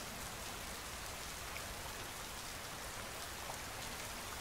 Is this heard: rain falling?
yes